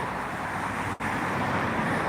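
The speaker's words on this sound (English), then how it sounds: "Lots of traffic." Road traffic on Brant Avenue in Brantford, a continuous wash of passing vehicles and tyre noise heard from the roadside, steady and moderately loud with a brief dropout midway.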